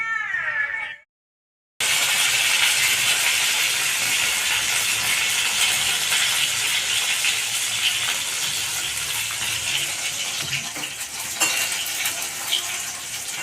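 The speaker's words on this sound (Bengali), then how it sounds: "মাছ ভাজা হয়ে গেছে মাছগুলোকে তুলে নেব" Loud, steady sizzling and hissing of catla fish frying in hot oil, with crackles and pops throughout, after a brief cat-like cry and a moment of silence.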